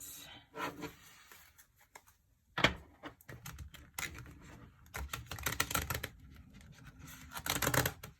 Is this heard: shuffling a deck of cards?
yes